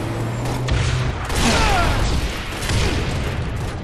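Rocket explosions in a video game: a cluttered stretch of booming blasts and crashing impacts, several swelling bursts over a rumbling background, loud and near, with no talk.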